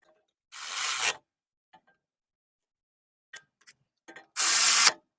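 A ratchet wrench tightening the bolts on a Toyota Camry brake hose bracket during rear shock replacement, giving two loud, quick bursts of clicking separated by near silence and a few faint metallic taps.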